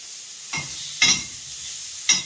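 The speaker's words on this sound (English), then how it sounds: "So I'm just lightly browning the meat, the bacon." Bacon browning lightly in a pan, a soft steady sizzle broken by three sharp stirring scrapes and clatters, close and alone with no voices.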